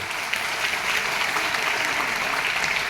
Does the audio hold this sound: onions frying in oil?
no